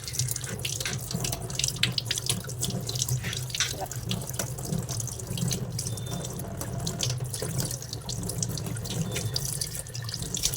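Water runs steadily from a tap into a sink while dried fish are rinsed and rubbed clean, a continuous close splashing with scattered drips and clinks throughout.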